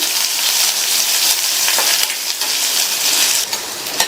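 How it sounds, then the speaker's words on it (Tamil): Onion and green chilli sautéing in hot oil for a Tamil beans side dish, a steady loud sizzle with brief stirring scrapes throughout, no voices. "வெங்காயத்தை இந்த மாதிரி லைட்டாக வதக்கிட்டு"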